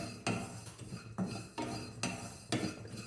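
Jackfruit seeds being roasted in a pan and stirred with a utensil, giving repeated sharp scraping clinks against the metal at a steady rhythm, close and clear with no talking.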